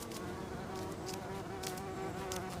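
Bees buzzing steadily and continuously, a dense droning hum with sharper passes as individual insects fly close to the microphone, no voices.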